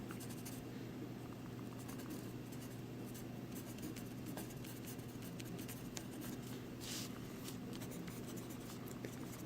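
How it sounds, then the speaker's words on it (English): Pen writing by hand on paper while working out a maths rule: a steady, faint scratching of strokes close by, continuous over a constant low hum, with no talking. "So we just need to write that."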